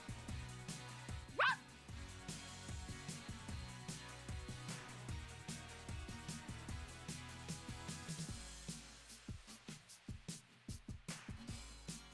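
Cartoonish dog barks and yips from a Barbie pet rescue video game, repeated in short bursts over a continuous, busy bed of game music throughout.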